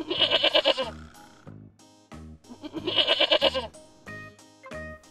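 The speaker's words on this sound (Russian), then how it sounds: "Это коза. Коза. Как говорит коза?" A goat bleats in repeated wavering calls, two loud, close bleats separated by softer gaps, with no talking.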